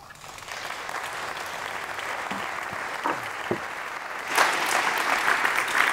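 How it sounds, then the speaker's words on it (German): Applause from a German keynote audience in the background, faint and steady, then swelling louder toward the end, with a few brief voice sounds over it. "Sie haben den Applaus sicher gehört, oder? Ein wenig im Hintergrund."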